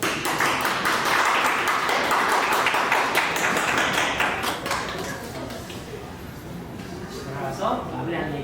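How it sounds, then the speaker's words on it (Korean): A high school class of second-year students claps for their teacher at his retirement ceremony, a dense burst of hand claps that gradually thins and fades. "박수."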